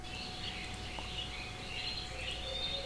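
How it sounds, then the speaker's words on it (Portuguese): Small birds chirp and tweet faintly over a steady nature ambience from a GTA ambient sound mod, with insect-like hiss underneath and a thin tone running through. "Você já até ouve que tem uns passarinhos, né?"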